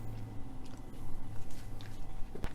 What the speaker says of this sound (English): So I'm hoping it's gonna be really soft chewing it as well.